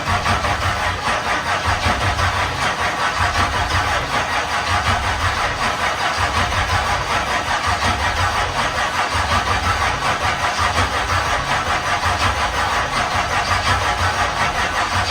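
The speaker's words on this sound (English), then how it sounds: "So we will crank on it, see if the battery's got enough juice." Midwest Modified race car engine cranking and firing up, a loud steady rough running roar with a pulsing low rumble throughout, close and alone without talk.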